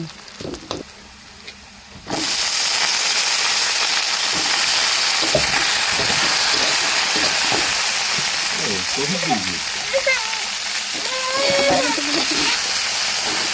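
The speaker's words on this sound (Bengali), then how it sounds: "এখন পেঁয়াজ কুচিগুলো ভালোভাবে ভেজে নিতে হবে এখন এর ভেতর আমি শাপলাগুলো দিয়ে দেব" Chopped onions and water lily stems frying in a pan, a steady loud sizzle and hiss that starts abruptly and continues throughout with light stirring clicks, while someone speaks over it.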